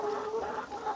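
Laying hens in a 160-day-old layer shed clucking in a steady, dense chorus, a continuous crowded murmur of many birds close by with no talk.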